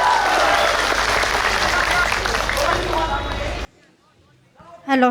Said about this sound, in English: Ladies and gentlemen, big applause for Poo Viswajit Singh.